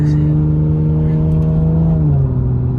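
A Toyota Supra mk5 with a B58 engine drones steadily from inside the car, its engine tone sliding lower near the end as the revs shift.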